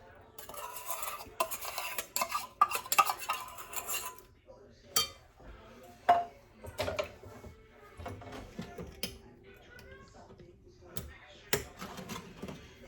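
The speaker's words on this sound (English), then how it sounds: "So you just stir all this up. Get everything mixed good, especially the sugar." Spoon stirring beef jerky marinade with sugar in a bowl, giving irregular clinks and scrapes of metal on the bowl, loudest in an early burst and then intermittent, with faint talk in between.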